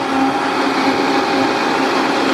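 A blender running with hot water and dish soap inside, its motor whirring loud and steady with a constant whine and no pause.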